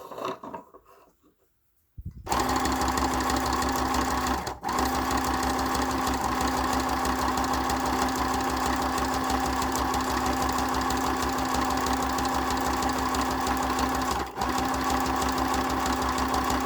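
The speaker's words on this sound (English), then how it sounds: "I'm going to stitch up, put some stitches around some of these." A sewing machine stitches around the edges of photo journal cards, starting up after a short quiet rustle and then running at a steady, fast, close mechanical whir with two brief pauses.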